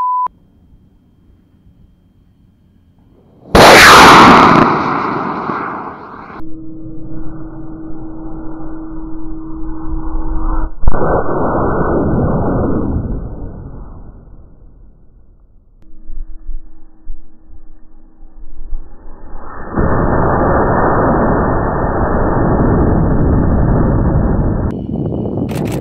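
High-power model rocket on a Level 2 certification launch: a sudden loud ignition roar bursts out after near silence, then a sustained rushing motor burn fades off and returns as a strong steady roar later, with no talk.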